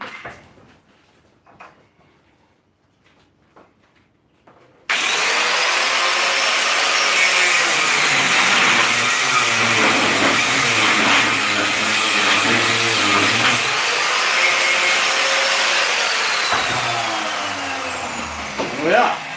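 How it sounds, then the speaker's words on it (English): An angle grinder cuts and trims metal stock for the carrying handles and tool rests of a post anvil stand, starting abruptly after a quiet moment and running loud and continuous for about fifteen seconds with a shifting, rasping whine. "So I'm gonna do that with the angle grinder right now."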